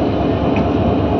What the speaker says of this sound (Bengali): এটা হলো ট্রেনের ইঞ্জিন ঘুরানো হচ্ছে।